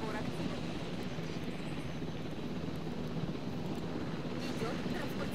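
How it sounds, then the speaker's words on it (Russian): Helicopter flying in from the video game Jurassic World Evolution, a steady low rotor drone with wind-like rumble held at even loudness throughout. "потом по тебя уже летит вертолет, я чувствую"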